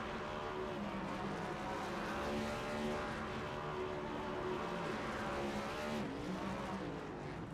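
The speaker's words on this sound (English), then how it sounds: "Kensley Smith doing burnouts out here" A race car doing burnouts at Talladega in the iRacing game, heard as a loud, continuous engine roar with a steady, slightly wavering pitch, close and without talk.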